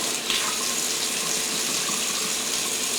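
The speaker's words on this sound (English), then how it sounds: "So you get the water running, you get your soap, get your hands wet, get your soap" Tap water runs steadily from a faucet into a sink while hands are washed with soap, a constant broadband hiss holding at an even level throughout, with no talk.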